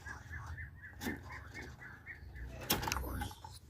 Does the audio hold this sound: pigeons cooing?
yes